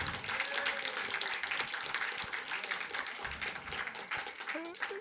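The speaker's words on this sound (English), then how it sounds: "Just clap just for a buzz, man" A live awards-show audience claps in a broad wash of many hands, with people talking over it and a brief whistle near the end.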